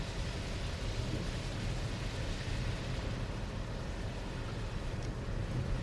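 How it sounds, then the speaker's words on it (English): Wheels of a vehicle creeping along a wet track, giving a continuous low rumbling hiss with faint splashing of moisture, steady and unbroken with no voices. "just hear the moisture under the wheels. It's just almost splashing a little bit."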